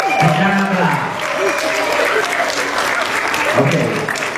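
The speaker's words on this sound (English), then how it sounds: "Let's all please give her a round of applause." Audience applause at the close of a community program, a steady wash of clapping held at an even level for several seconds, with voices calling out over it.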